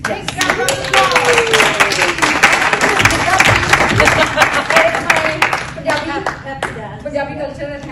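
Audience applause for speakers at a Fiji Hindi community event, dense, steady clapping filling the room for several seconds before thinning out, with voices chattering beneath it.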